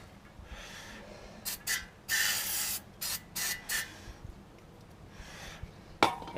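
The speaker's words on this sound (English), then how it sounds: "Brake clean this down." Brake cleaner hisses in several short, close bursts onto a greasy brake hub on a Dana 44 front axle, with a sharp metallic tap near the end.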